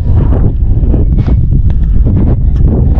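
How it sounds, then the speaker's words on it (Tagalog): Heavy wind buffeting the microphone at a hillside resort in Tanay, Rizal, a constant low roar with gusty rumbles and rustling, loud and close throughout. "Grabe talaga yung hangin."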